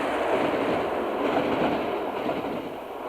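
A train rumbles steadily over a Victorian railway viaduct in London, a dense, continuous roar of wheels and carriages that stays loud throughout with no pauses.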